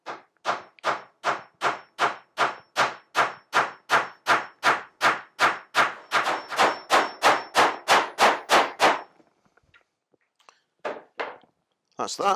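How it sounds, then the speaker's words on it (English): A hammer gently taps fixings into the timber of a beehive floor, giving about twenty-five quick, even knocks close by. A short spoken remark comes near the end, followed by a couple of final taps. "So just nice and gently with it, just tap it in."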